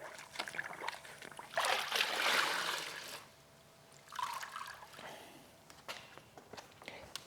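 A Big Red sponge plunges into a rinseless wash bucket during hand car washing outdoors in hot weather, giving two soft sloshing swells of water, then lighter drips and small knocks, faint and close.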